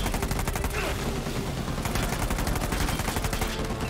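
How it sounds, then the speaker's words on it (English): Automatic gun in Uncharted 4 firing one continuous rapid burst, loud and close, its evenly spaced shots running through the whole stretch with game sounds underneath. "they give me this automatic gun. I'm decimating it."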